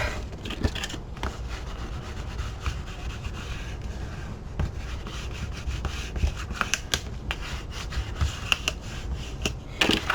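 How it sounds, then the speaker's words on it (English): Glued paper pages in a handmade album being burnished, producing soft, close rubbing and scraping strokes with scattered light taps and clicks, steady and faint with no voices. "go ahead and burnish that in really good"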